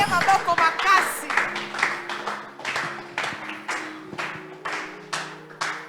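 A church congregation claps in a steady, even rhythm about twice a second, with a voice calling out loudly over the beat at the start.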